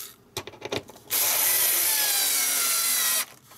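A drill bit spins up during an Xbox repair, with a few clicks and handling knocks first, then a loud, steady high-pitched whine for about two seconds before stopping abruptly.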